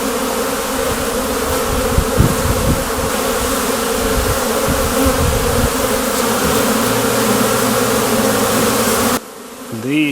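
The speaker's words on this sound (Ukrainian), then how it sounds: "Ось де обльот. Після зими приводять себе в порядок." Honeybees buzz in a dense, steady drone at the hive during their spring cleansing flight after winter, close and loud throughout, ending in a brief quieter stretch with a few nearer wingbeats.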